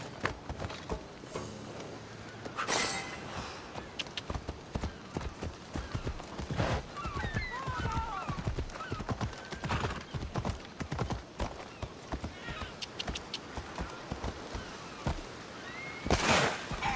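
Hoofbeats of a horse ridden at speed in Assassin's Creed Odyssey pound steadily and close, with brief whinnies and scattered game effects over the running rhythm.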